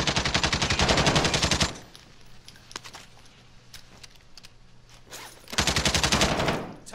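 Machine gun fire in a Call of Duty zombie royale match, two long rapid bursts separated by a few seconds of quieter ambience with scattered faint clicks and distant shots.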